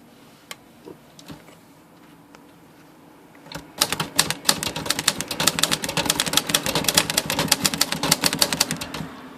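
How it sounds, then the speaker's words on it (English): A Royal Aristocrat vintage manual typewriter clacks in a rapid, continuous run of keystrokes after a few scattered taps, close and crisp, with no voices. "So it's typing again really pretty good here"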